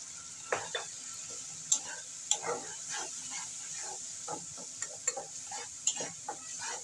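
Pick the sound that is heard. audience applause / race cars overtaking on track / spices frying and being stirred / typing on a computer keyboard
spices frying and being stirred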